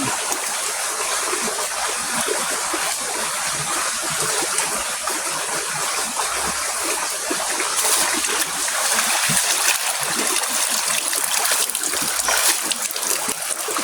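A strong stream rushes steadily and loudly close by, its broad splashing flow continuous and unbroken, with no voices over it.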